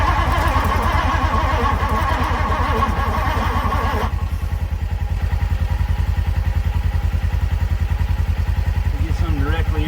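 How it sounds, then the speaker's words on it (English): Starter cranking a 1964 Ford Thunderbird engine on borrowed battery power, a steady rapid chugging rhythm throughout, loud and close, with a brief change in tone partway. "I'm go spin it over, see if that gives us any little bit more engine power here."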